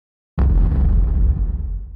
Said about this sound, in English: think of a cannon of the old type used on pirate ships. The kind that used gunpowder to fire cannonballs.